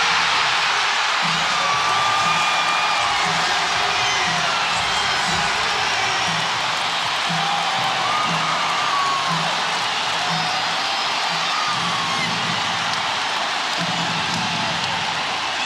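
A packed basketball arena crowd at the 2003 NBA Finals Game 6, Nets at Spurs, roaring continuously and loudly, with shrill whistles and whoops rising above the din.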